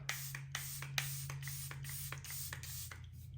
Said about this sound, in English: And then I will go ahead and add my setting spray before mascara.